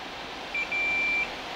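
A multimeter's continuity beep sounds while probing a resistor leg and tube socket post inside a Vox AC30/4 valve amplifier: a steady, clear electronic tone with a brief first chirp, then a sustained half-second beep over quiet room hiss.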